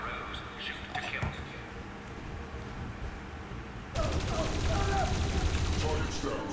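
A video game firefight crackles with a sustained burst of rapid gunfire that starts abruptly partway through, following a stretch of quieter ambience and muffled voices.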